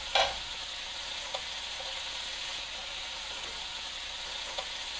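Bacon fries in a pan with a continuous even hiss and crackle at a moderate level, broken by a sharp clack at the start and a couple of small taps later, with no voices.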